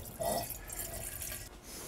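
Water runs and splashes from a tap as it is poured into an Instant Pot over beans, a close, steady liquid rush lasting a couple of seconds with no speech.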